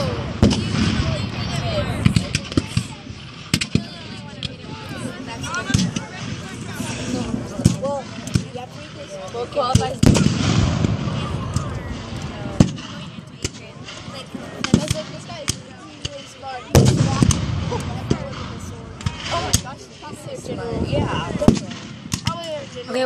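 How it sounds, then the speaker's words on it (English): At a field day, a cannon repeatedly fires cannonballs with sharp booming reports and impacts at irregular intervals over a noisy outdoor crowd, with people talking throughout. "watch a cannonball shoot and hit like all of them"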